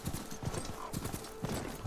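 Horse mount hooves gallop at a steady, rapid clip-clop rhythm throughout, close and clear, in the video game Horizon Forbidden West.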